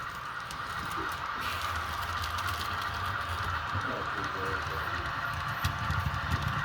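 An HO scale model maintenance-of-way train rolling along a layout, a steady faint rumbling patter of small wheels on track without clear breaks, heard at a distance throughout.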